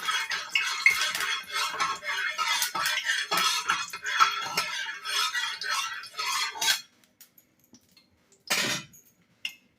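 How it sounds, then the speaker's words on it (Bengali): Hot oil is stirred around a saucepan with a utensil, making rapid close metallic scraping and clinking for several seconds, then quiet broken by two short clanks. "এবার আমি একটু তেলটাকে নেড়ে দেবো"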